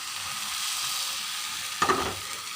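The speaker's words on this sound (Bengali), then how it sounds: "এখন আমি আরেক ডাবু বেটার এখানে দিয়ে দেবো। দিয়ে এটাকে আমি এভাবে ঘুরিয়ে দেব।" Egg and flour batter frying in an oiled pan gives a steady hiss throughout, with a brief louder spatter and scrape near the end as the pan is swirled.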